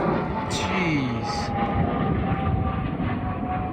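Two private jets flying overhead make a steady, broad roar, with a brief descending whine early on and a hint of voices nearby.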